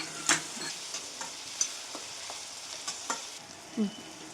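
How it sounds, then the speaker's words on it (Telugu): Sliced onions with a pinch of salt frying in hot oil, a soft steady sizzle with occasional light clicks of a spoon stirring the pan, close and fairly quiet. "కొద్దిగా సాల్ట్ వేసుకుందాం, ఆనియన్స్ తొందరగా ఫ్రై అవుతాయి."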